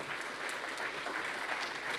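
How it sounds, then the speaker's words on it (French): An audience applauds steadily, a dense wash of hand claps that keeps an even level throughout the short stretch. "On vous applaudit"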